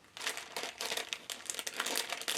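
Crinkly plastic packaging on a washi tape subscription kit is opened in a quick run of close, bright crackling crinkles over about two seconds.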